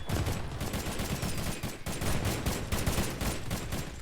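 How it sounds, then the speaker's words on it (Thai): Dense, rapid bursts of gunfire in the video game Mini World Royale fill the whole stretch, loud and continuous like sustained automatic shooting. "โหเสียงปืนสนั่นห้อง"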